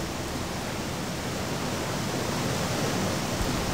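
Steady rushing waterfall in the video game Gothic 2, a continuous broadband roar that holds evenly throughout with no speech over it.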